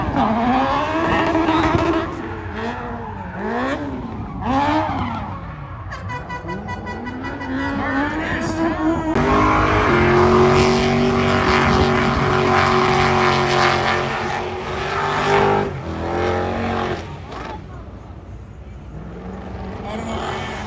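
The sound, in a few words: drift car engine revving while drifting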